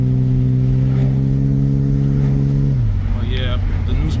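A car engine revs and pulls away after a tune-up with new spark plugs, a steady close drone that drops in pitch near the end as the car takes off.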